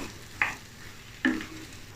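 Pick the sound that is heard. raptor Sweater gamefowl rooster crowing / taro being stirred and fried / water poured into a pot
taro being stirred and fried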